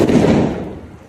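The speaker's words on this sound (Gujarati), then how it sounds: "ફટાકિયા ફોડવાનું ચાલુ કરી દીધું" A Diwali firecracker goes off close by in a single loud boom at the start, its rumble fading out over about a second.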